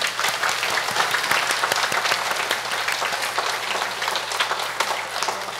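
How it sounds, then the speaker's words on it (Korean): A congregation at a Won Buddhist sermon breaks into sustained applause, many hands clapping in a dense, even roar over a faint low hum. "인간으로 태어난 놀라운 감사의 박수를 함께 쳐주시기 바랍니다."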